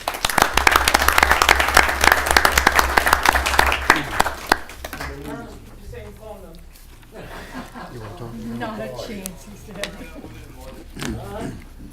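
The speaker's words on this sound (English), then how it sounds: "we all again give him a round of applause" A room of colleagues gives a departing coworker a round of applause, dense steady clapping for about four seconds that fades out, followed by murmured talk and light chuckles.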